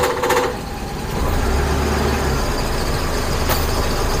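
A Daihatsu Zebra Espass car engine is started: a short cranking burst, then a lower engine rumble settles into a steady idle, with a brief sharp hiss near the end.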